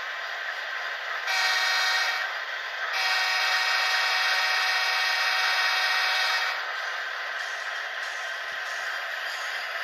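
An HO-scale EMD model locomotive with a Tsunami 2 sound decoder sounds its horn in two bursts, a short blast and then a long sustained one, over a constant idling engine rumble.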